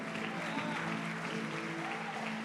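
A church congregation claps for the Lord during a worship conference session, a steady wash of applause heard alongside murmured voices and a sustained tonal background.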